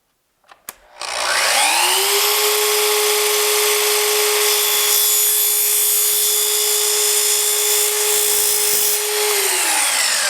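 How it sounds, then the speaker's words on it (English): A Festool miter saw spins up, runs with a steady high motor whine for about eight seconds while making a 90-degree cut on cornerbead, then winds down, close and loud. "Now this is just going to be a 90-degree cut, so I'm just going to reset the miter saw."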